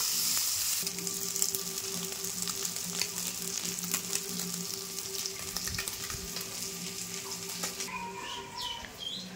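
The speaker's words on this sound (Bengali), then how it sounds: "এই যে এখানে কিন্তু মাছ ভাজা বসিয়ে দিয়েছি, লাল লাল করে মাছগুলোকে একদম ভেজে নেব" Tengra fish frying in hot oil, a loud steady crackling sizzle close by, with a faint stir or two and birds chirping softly in the background.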